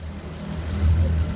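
A 2018 Maruti Swift ZXI manual hatchback with about 15,000 km on it runs with a steady low engine hum, close by and even, with a slight swell midway through the short stretch.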